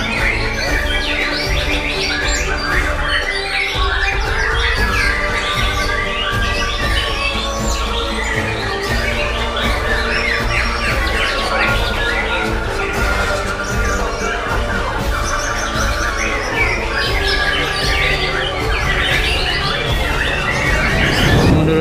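Many competition songbirds singing together at an Indonesian bird contest, a dense loud tangle of overlapping chirps, trills and whistles that continues nonstop, with faint crowd murmur beneath.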